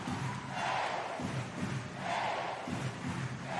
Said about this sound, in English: The vast majority of this big crowd in Uberlinja will remain on their feet for the finish.